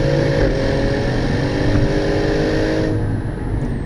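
An Audi RS7 with a 560-horsepower engine pulls hard after a downshift, a loud, sustained engine roar heard from inside the car, steady and strong with the pitch shifting slightly near the end.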